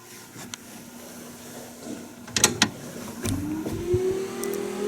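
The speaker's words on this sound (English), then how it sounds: "we have fan blowing, like it's supposed to." Blower fan of a Buick Roadmaster switched on with the key at accessory, a steady whirring hum that rises in pitch as it spins up, with a few clicks and knocks from handling nearby.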